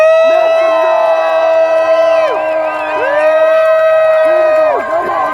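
A crowd at an end-the-lockdown protest in Vancouver cheers, whoops and shouts continuously, a dense roar of many voices with occasional louder yells rising above the din.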